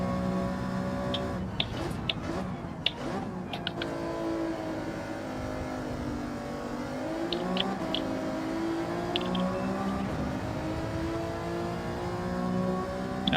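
A race car engine in Gran Turismo 7 at Brands Hatch, droning and revving continuously as the car climbs through the gears and drops back under braking, close and loud throughout, with a few brief clicks along the way.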